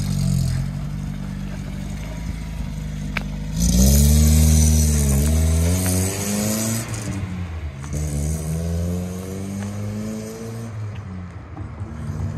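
An old Lada car engine idles with a low rumble, then revs up loudly and settles into a steady drive, the pitch rising and falling.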